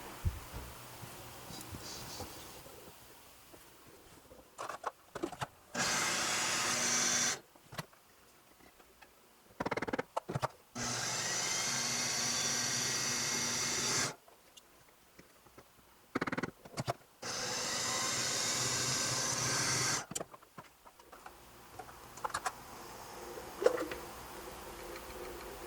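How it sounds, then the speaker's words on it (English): A food processor chops fresh green peppers in four or five loud whirring bursts of a few seconds each, separated by quiet pauses with light clicks and handling noises. "you're getting a lot of foam from the food processor"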